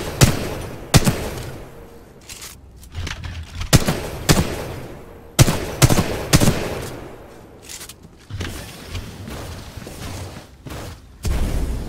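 Gunfire in Titanfall 2 during the Pilot's Gauntlet training course, sharp weapon shots in irregular bursts and single cracks with short gaps, loud and close over a low game ambience.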